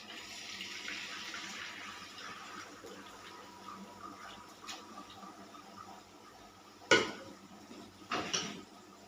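A cooked mixture for Uttara Andhra charu is poured and filtered through a kitchen strainer, giving a soft steady trickle and splash of liquid with a couple of louder clattering knocks near the end.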